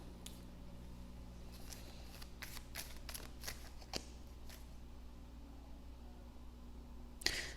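Tarot cards are shuffled up close in a run of quick papery riffles and slaps, followed by a quieter stretch and one sharp final snap, with no talking.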